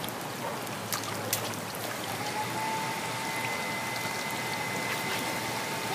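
Pool bubbler jets run on a smart-phone-controlled pool system, giving a steady rushing, splashing water hiss with a few brief louder spatters, close and continuous.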